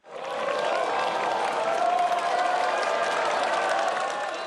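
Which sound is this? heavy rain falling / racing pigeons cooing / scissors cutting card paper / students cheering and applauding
students cheering and applauding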